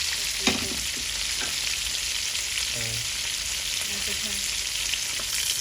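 Fish frying in a pan makes a steady, close hiss of oil with scattered faint pops and light clinks throughout, no voices.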